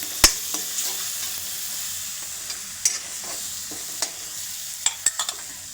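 Spices fry in oil in a pan for a green rasam, giving a steady soft sizzle with scattered sharp pops and spatula clicks, close and alone.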